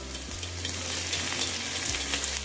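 Brown rice nasi goreng with lemongrass and oyster sauce sizzling in a pan, a continuous close crackling fry with faint stirring scrapes and no talking.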